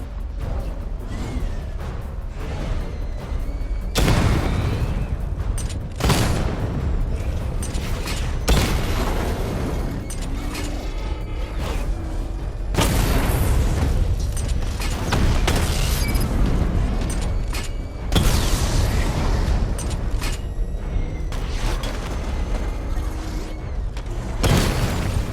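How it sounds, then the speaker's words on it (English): Loud, repeated booming blasts from a missile barrage in Batman: Arkham Knight, arriving in several heavy bursts spread over the stretch with dense rumbling between them. "Charge up missile barrage to level 2 and destroy 4 active targets to complete diagnostic test."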